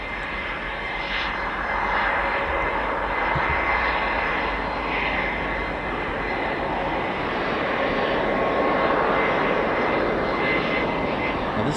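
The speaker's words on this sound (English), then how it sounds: "It looks like Swedish Air Force. Yep. Swedish Saab Gripens." Swedish Air Force Saab Gripen jets arriving at RAF Fairford, their engines a steady, moderately distant roar that holds for the whole stretch, with no voices over it.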